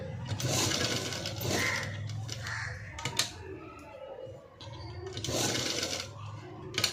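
Sewing machine stitching a blouse neckline with cut-work design along buckram padding, a steady mechanical whir in bursts with short pauses between runs, close and moderately loud.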